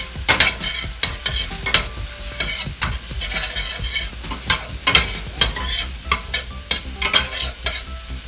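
Vegetables seasoned with freshly cracked black pepper are stirred in a frying pan for fried rice, a steady sizzle broken by repeated sharp scrapes and clacks of the utensil at an uneven rhythm, close and fairly loud.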